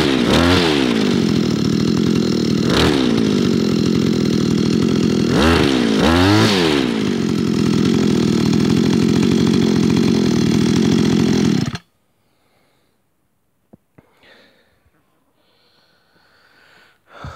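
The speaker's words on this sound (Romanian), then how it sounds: "Asta este o metodă bună de a porni o motocasă cu motor unicat." A flooded single-cylinder brush cutter engine starts and runs, loud and near, with a buzzing two-stroke drone and several revving surges before it cuts out abruptly, leaving near silence with faint clicks afterward.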